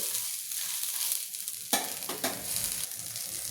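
Finely chopped onion roasts in a pan, making a steady close sizzle with scraping stir strokes and a sharper clatter partway through; no speech.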